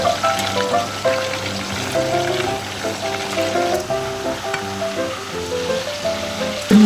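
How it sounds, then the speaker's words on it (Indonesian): Chicken pieces fry in hot oil with a steady crackling sizzle, loud and close, while soft music plays in the background. "Kemudian saya panaskan minyak, lalu ayamnya digoreng."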